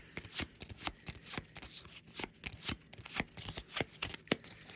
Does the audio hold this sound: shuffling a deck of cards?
yes